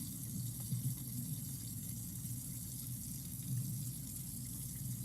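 Water runs steadily from a kitchen sink tap while dishes are rinsed, a continuous even splashing and hiss close by, alone with no voices.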